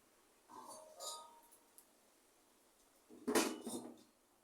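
Metal lid set onto a cooking pan, a few faint clinks early followed by a louder metallic clatter as it settles, in a quiet kitchen.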